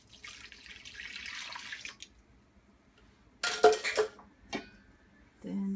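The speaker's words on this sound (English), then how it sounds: "I'm gonna add the water." Water is poured into a bowl of sourdough starter and salt for bread dough, a steady splashing pour lasting about two seconds, followed by a few sharp clinks and knocks of kitchen utensils.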